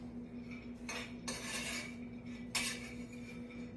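Pecans toasting in a pan are stirred with a metal utensil, giving a few bursts of scraping and rattling between quieter stretches over a low steady hum.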